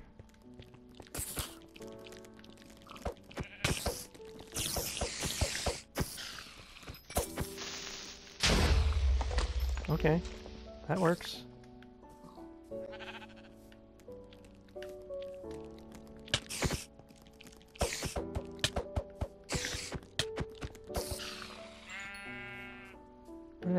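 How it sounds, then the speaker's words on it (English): Sheep in the Minecraft video game bleat repeatedly in short nasal calls, scattered among game thumps, squishes and background music, with a brief spoken remark over them. "There's a sheep. I'm killing it."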